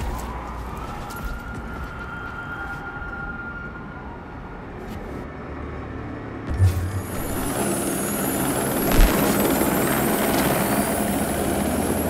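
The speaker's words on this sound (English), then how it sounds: "I do believe that is a helicopter." Steady low rotor-like rumble of a helicopter in Watch Dogs 2, continuous and fairly loud, with a few brief thumps and a rising whine toward the end.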